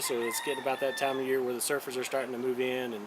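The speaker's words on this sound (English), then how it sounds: "If you hear the roosters in the background," Roosters crow in the background on Hawaii's North Shore while someone talks steadily over them, the crowing rising and falling behind his voice.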